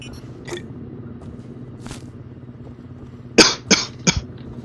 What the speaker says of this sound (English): And cough, cough, cough, because I am sick